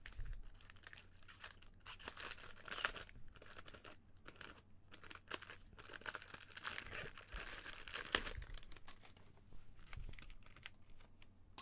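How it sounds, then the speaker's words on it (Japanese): Scissors cut open a 2021 Bowman 1st Edition MLB baseball card pack, giving close, continuous crinkling and tearing of the foil wrapper with irregular sharp rustles and snips. "ハサミで上を切って"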